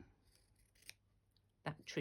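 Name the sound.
big scissors cutting fabric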